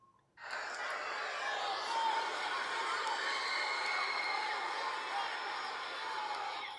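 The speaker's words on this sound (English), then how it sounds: "watch the roar from the crowd in Barclays" A boxing crowd at Barclays Center roars for a fight, a loud, dense, sustained wall of cheering that swells in abruptly after a brief quiet start and holds steady to the end.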